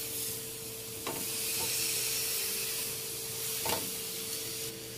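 Meat sizzles steadily on a hot comal for Arabic-style tacos, a loud continuous hiss broken by a few scraping knocks as the pieces are turned, with no talk.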